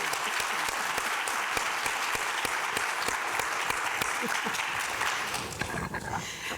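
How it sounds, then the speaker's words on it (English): A crowd applauds steadily with dense, continuous clapping that tapers off near the end. "I think we need to applaud us."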